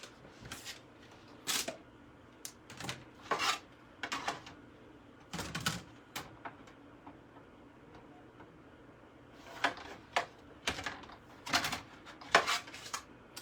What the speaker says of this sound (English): I'm going to grab the shadowed image and I'm going to die cut that out of the mango